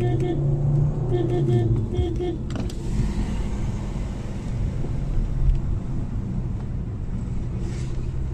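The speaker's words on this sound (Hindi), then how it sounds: "मैं गाड़ी साइड पे लगा रहा हूँ" A car is driven along and pulled over to the roadside, its engine and road noise forming a steady low rumble, with a short electric whir near the start.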